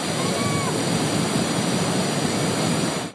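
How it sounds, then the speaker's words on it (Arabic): Ouzoud waterfalls in Morocco, where water tumbles over a sharp mountain edge, roar as a loud, continuous, dense rush of crashing water that fills the whole stretch without letting up. "لتتكسر فوق حافة جبل حاد، فيتحقق ذلك التدفق البديع للمياه. إنها شلالات أزود"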